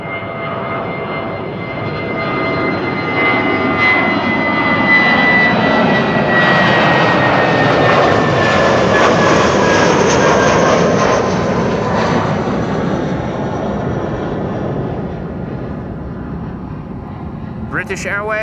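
A British Airways jet departing Schiphol roars as it builds, swells loudest at mid-climb and then slowly fades, with a voice talking over the engine noise.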